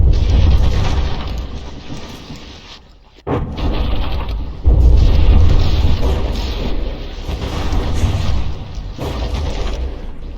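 Mortar shells burst against a battleship in the naval combat game From the Depths, making heavy booming impacts and rumbling blasts over a dense mechanical din. One sharp hit lands partway through, and the noise stays loud throughout.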